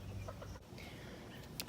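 A pet hen clucks softly a few times while scratching at the ground, close by and brief, with no other voices.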